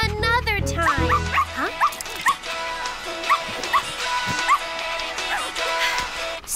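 Cartoon puppy barking and whimpering, a run of high yips and whines over a bright musical background, close and fairly loud.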